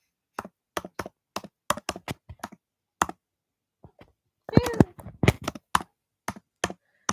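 Fingers typing on a computer keyboard, a run of sharp, evenly spaced key clicks with a brief pause, then a denser burst of clattering keystrokes followed by a few more scattered taps, fairly close and alone.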